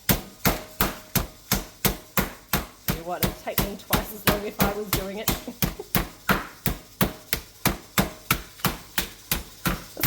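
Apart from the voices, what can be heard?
hammering chicken breast flat under baking paper for schnitzel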